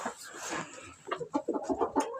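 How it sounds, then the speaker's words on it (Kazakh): Chickens cluck softly nearby in uneven, choppy bursts, with a faint breathy murmur of hens at the start, fairly quiet overall. "Осындағы тауықтар тоже. Тауық."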